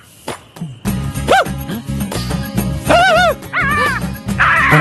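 A dog barks and yips several times in close succession, with whining, high-pitched cries mixed in; the sounds are loud and fairly near.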